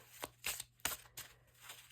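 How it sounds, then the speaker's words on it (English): A deck of cards being shuffled by hand at a crafting table, with several quick riffling bursts spaced across a couple of seconds, faint and close with a steady low hum underneath. "Shuffling the cards"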